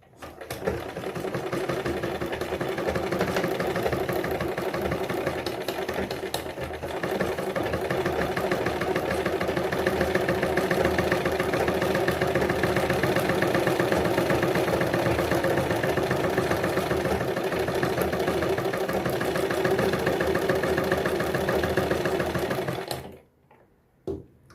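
A sewing machine stitching cloth along a pencil line, a fast steady mechanical whirr and rattle running continuously for over twenty seconds before stopping abruptly.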